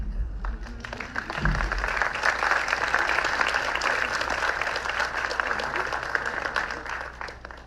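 Audience applause at a literary talk by Élmer Mendoza, a dense, steady wash of many hands clapping that fills the room for the whole stretch and tapers slightly at the end.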